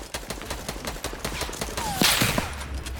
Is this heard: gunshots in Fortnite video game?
yes